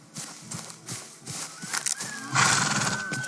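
Horses in the video game Robin Hood: Sherwood Builders snort and whinny close by, with soft hoof knocks and a louder neigh near the end.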